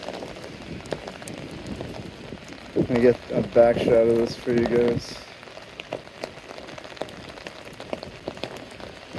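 Steady rain pours down during a New York City rain and wind storm, a dense, even hiss of drops on the street, with someone talking briefly partway through.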